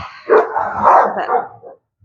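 Dogs playing noisily indoors, letting out a close, loud burst of barks and yips mixed with a short growl, with no one talking.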